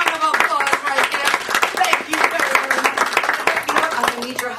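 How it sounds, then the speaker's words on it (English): A magic show audience applauds a volunteer, with steady scattered clapping heard under a voice talking throughout. "Guys, let's give her a round of applause right there."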